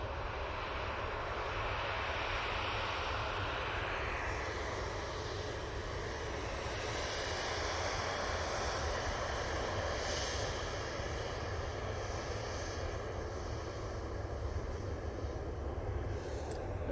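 A Ryanair airliner rumbles at Manchester Airport, a fairly faint, distant and continuous engine roar that stays level for about seventeen seconds with no speech.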